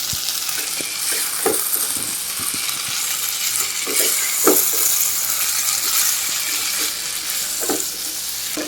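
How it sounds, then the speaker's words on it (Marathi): Fried egg and fried potato being tossed through masala with rice for egg biryani, a steady close sizzle with scraping stir strokes every second or so, no voices. "आता यामध्येच मी हे अंडी फ्राय केली होती ती आणि आपण जो बटाटा फ्राय केला होता तो ते घालते तो सुद्धा या भातामध्ये असं मसाल्यामध्ये परतून घेते"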